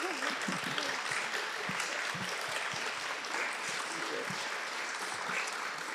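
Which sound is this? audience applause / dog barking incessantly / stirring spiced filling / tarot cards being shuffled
audience applause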